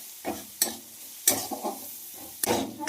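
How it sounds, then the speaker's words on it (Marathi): Green chillies sautéed in a pan over a gas flame, with a soft background sizzle and a few sharp clacks and scrapes of a spoon against the pan at irregular intervals, close and moderately loud. "गॅसवर आपल्याला ही मिरची 1 ते 2 मिनिटं छान अशी परतून घ्यायची"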